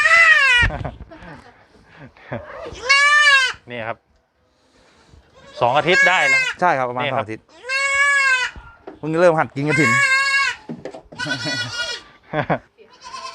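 Young crossbred goats, about two weeks old, bleat on a goat farm in a string of loud, close, wavering cries, many in quick succession, while someone talks between them.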